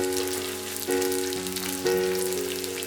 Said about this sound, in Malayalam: നല്ല ചൂടായ എണ്ണയിലേക്ക് നമുക്ക് ഇട്ട് കൊടുക്കാം.